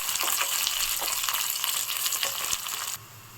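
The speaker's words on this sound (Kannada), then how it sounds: "ಹಾಕ್ಕೊಂಡು ಚೆನ್ನಾಗಿ ಫ್ರೈ ಮಾಡಿ ಸಾಫ್ಟ್ ಆಗಿರೋ ಈರುಳ್ಳಿನ" Onions for spinach sambar fry in a pan with a dense, close, steady sizzle and occasional stirring clicks, which drops quieter near the end.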